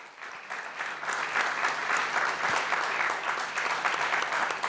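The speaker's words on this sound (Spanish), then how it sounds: "Estos aplausos son para sus palabras" An audience at a congress on audiovisual communication law applauds, a dense, sustained clapping that swells after a brief start and stays loud and even throughout.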